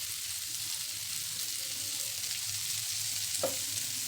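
Stuffed bitter gourds frying in oil in a pan, a steady, even sizzle held at a moderate level throughout, with one brief faint clink near the end and no talk.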